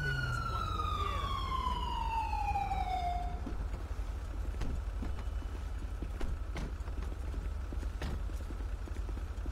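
A police car siren in a video game wails through a falling sweep for a few seconds, then cuts off and leaves a steady engine-like drone and background noise.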